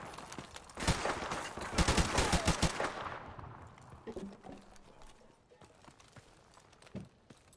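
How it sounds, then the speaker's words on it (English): Video game gunfire: a rapid, loud fusillade of close shots in the opening seconds, thinning out to scattered distant pops and footstep-like taps afterward. "I'm getting gunned."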